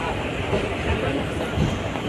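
A passenger train hauled by a WP4 locomotive stands at a station on a route bound for Mangalore Junction, giving a steady broadband rumble and hiss with faint voices mixed in.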